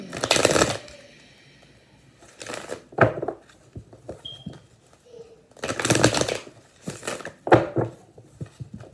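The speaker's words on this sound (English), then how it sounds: "Got to shuffle these cards real good." Tarot cards shuffled in quick bursts, several crisp riffling flurries separated by pauses, close and fairly loud with a few soft handling noises between them.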